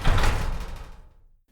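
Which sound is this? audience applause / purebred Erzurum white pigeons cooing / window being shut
window being shut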